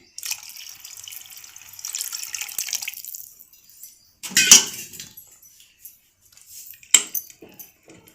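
Water pours into a cooking pot for sprouted field bean saaru, with a steady splashing stream for about three seconds. Scattered clinks and knocks of utensils follow.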